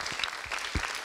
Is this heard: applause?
yes